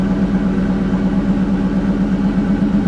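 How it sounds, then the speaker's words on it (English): A 2001 Mustang Bullitt fitted with a JBA H-pipe and stock mufflers idles steadily up close, a loud, even low rumble with a slight pulsing throb and no other sounds. "I'm going to let this thing idle down a little bit"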